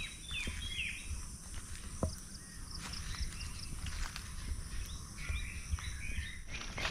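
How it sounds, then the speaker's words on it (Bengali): Many birds chirp and call in a mango and jackfruit orchard, with repeated faint-to-moderate chirps and short trills scattered over steady outdoor ambience. "অনেক পাখি ডাকছে এখানে"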